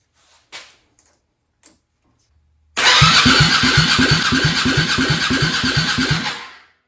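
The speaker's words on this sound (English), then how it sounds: "see if this starter will spin this engine over" A Suzuki 1000cc engine in a go-kart is spun over by its starter, a loud, steady rhythmic cranking that runs several seconds, chugging at an even pace, after a few faint clicks and taps in near silence, without catching and running.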